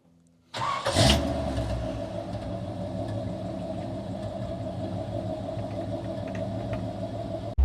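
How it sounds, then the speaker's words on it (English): A 1972 Chevrolet C10 pickup with a small-block 400 cranks and catches, then settles into a steady, loud, close droning idle with a raspy exhaust note. "this thing has a really big block kind of rasp and drone to it"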